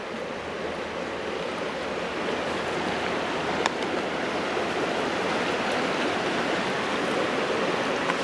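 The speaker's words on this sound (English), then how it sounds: "now our water's near boiling" A pot of water nears the boil over a campfire, giving off a steady broad hiss and rushing roar that stays even and fairly faint throughout, with no voices.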